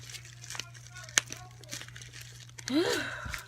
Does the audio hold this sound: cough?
no